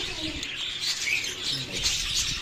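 Budgerigars, including gray green and Texas gray green birds, chirp and chatter continuously in a busy flock, with bright overlapping twitters close by and no speech.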